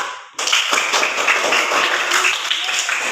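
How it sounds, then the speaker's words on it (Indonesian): A classroom of students breaks into dense, sustained clapping that starts abruptly after a brief near-silence and carries on evenly at close range. "kita berikan dulu aplaus sekali lagi kepada kita"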